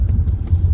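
A car interior on a rainy day in Glasgow fills with a low, steady engine and road rumble, close and fairly loud, with no talking.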